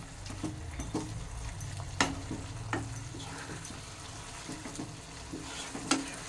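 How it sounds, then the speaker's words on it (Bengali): A pan of cabbage with garam masala being stirred under a steady frying sizzle, with a spoon scraping and knocking against the pan in irregular strokes and a few sharper clicks, close and moderately loud. "এবার নেড়ে চেড়ে গরম মশলাটাকে চারিদিকে ভালো করে মিশিয়ে দিচ্ছি"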